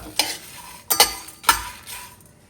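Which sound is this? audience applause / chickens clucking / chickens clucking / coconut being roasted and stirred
coconut being roasted and stirred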